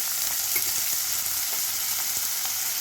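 Onions frying with green chili and salt in a pan give a loud, continuous close-up sizzle, with faint stirring clicks scattered through it and no voices.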